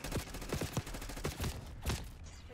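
Rapid bursts of assault rifle fire in the Black Ops 6 beta, a dozen or so quick shots in uneven volleys, fairly loud and close with game ambience between bursts.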